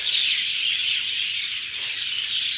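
Dense, continuous twittering of many small birds in high-pitched overlapping chirps, a steady chorus from nearby trees with no talking.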